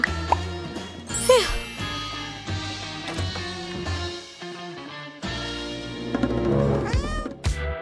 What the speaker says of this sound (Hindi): तुम एक बुरी बिल्ली हो विस्कर्स